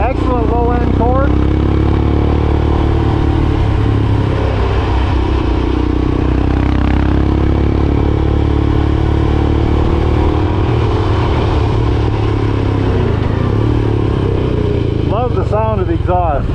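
A Royal Enfield Himalayan motorcycle's single-cylinder exhaust thumps steadily under way, loud and close, with someone talking over the engine's continuous throb at times.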